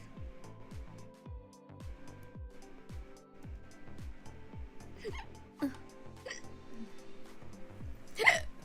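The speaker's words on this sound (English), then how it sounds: "I'm getting fucking attacked by hiccups." Repeated hiccups, a steady train of short, sharp gulping pops at a regular rhythm, with someone talking and chuckling quietly over them.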